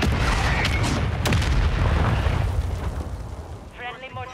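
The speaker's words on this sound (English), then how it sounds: "Friendly mortar strike" Friendly mortar strike explosions in Call of Duty rumble as loud, sustained booming blasts, heavy low-end detonations rolling over one another, with a voice faintly audible near the end.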